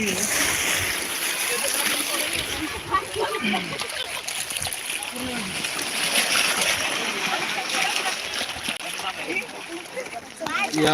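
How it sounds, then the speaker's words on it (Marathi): Waves slosh and splash continuously against the shore of Jayakwadi Dam reservoir at Paithan, with a steady broadband wash and voices murmuring in the background. "पाण्याचा खळखळाट आपल्यापर्यंत नक्की असेल"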